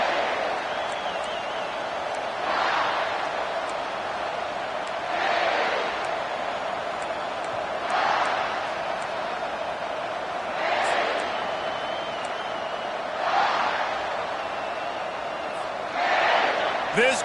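Stadium crowd in an NCAA football video game, a steady broad roar that swells in repeated cheering surges every few seconds, loud and continuous behind a commentator's voice.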